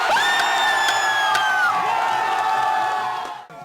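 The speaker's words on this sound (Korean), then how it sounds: "시민들은 일제히 자리에서 일어나 크게 환호했습니다." A large crowd of citizens in Korea erupts in loud, sustained cheering and whoops at the announcement of the presidential impeachment verdict, voices rising together close and full before tapering off at the end.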